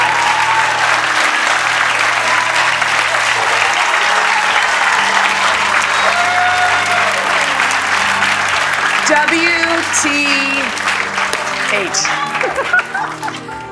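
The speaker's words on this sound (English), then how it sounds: "Give her a huge round of applause." Studio audience at a television talk show breaks into sustained, loud applause after an illusionist's mind-reading act, steady clapping filling the whole stretch with a host's voice briefly heard over it.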